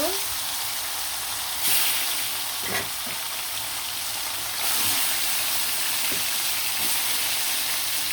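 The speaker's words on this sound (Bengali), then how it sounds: "বাকি মাংসগুলো আমি একইভাবে লাল লাল করে ভেজে নিব" Chicken pieces fry steadily in a pan, giving a continuous close sizzle with brief crackles and light stirring bumps, and no talk over it.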